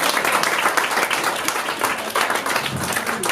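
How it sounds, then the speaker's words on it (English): Audience applause for three elder members being thanked at a 1916 commemoration event, a loud, dense round of clapping from a crowd lasting the whole stretch with no talk over it. "if we all could just give one final round of applause to the 3 elder lemons"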